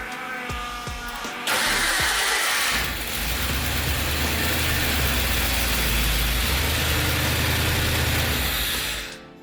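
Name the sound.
1988 Ford Bronco truck engine starting after starter repositioned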